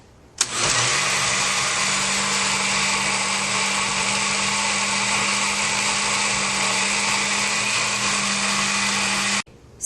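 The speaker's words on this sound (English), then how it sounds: "I like to blend mine in the blender" Hummus whirls in a blender running on liquefy, a loud, steady motor whine that starts abruptly, holds for about nine seconds, then cuts off.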